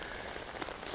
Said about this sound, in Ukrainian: почала злива